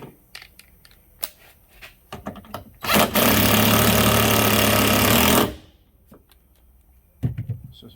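An impact gun tightens a tailgate lift prop bolt in one loud, sustained burst of rattling hammering about two and a half seconds long, with quieter clicks and handling noises before and after.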